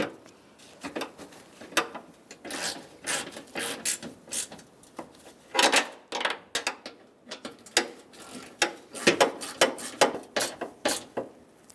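A ratchet tightens bumper cover bolts on a 2000-2007 Ford Taurus, with bursts of rapid, close metallic clicking in uneven runs.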